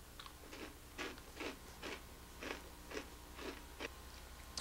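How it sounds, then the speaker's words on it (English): Close, crisp crunches of someone biting and chewing a crunchy chocolate-filled cookie, about eight sharp bites in a steady rhythm with no talking. "Very, very crunchy outer cookie shell."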